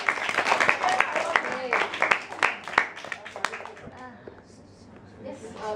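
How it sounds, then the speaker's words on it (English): Audience applause at a forum theatre performance, a dense crowd of clapping with scattered voices mixed in, loudest early on and thinning to a softer patter toward the end. "Let's give Nat a round of applause."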